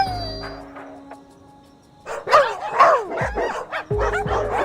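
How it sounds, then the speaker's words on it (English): Two dogs bark and yip in a Reverse 1999 game scene, several loud close barks bursting in a quick irregular cluster after a quieter opening with faint tones, mixed with high whimpering yips. "A second bark is heard, this time from behind Fingers."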